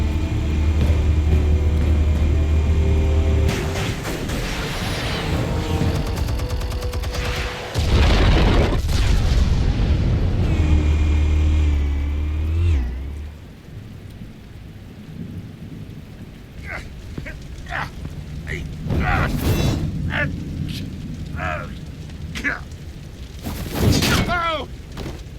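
Heavy explosives detonating in the Batman Telltale Series game, a loud sustained rumbling blast with deep booms and crackling debris that fades into quieter scattered impacts and clatter, with voices at times.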